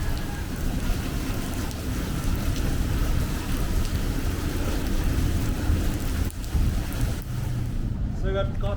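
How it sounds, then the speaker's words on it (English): Heavy rain pours down during a thunderstorm in Chicago, a loud, constant hiss of drops with low rumbling thunder underneath, the downpour briefly dipping before the roar resumes. "So I got caught under the thunderstorm"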